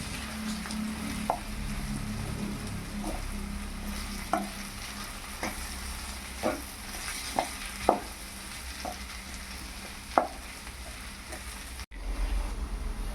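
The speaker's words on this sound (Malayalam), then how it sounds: "മഞ്ഞൾപ്പൊടി, കാശ്മീരി മുളക് പൊടി, മല്ലിപ്പൊടി, മുളക് പൊടി, കറി മസാലയും കൂടി ചേർത്ത് നന്നായി ഇളക്കി മൂപ്പിച്ചെടുക്കുക." Turmeric, Kashmiri chili, coriander powder, chili powder and curry masala fry in a pan with a soft, low sizzle, broken by occasional scraping taps of a spoon as the spices are stirred.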